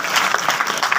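Loud applause from the audience at a Hindi poetry gathering (kavi sammelan) in Tigariya, a steady burst of clapping filling the whole moment with no voices over it.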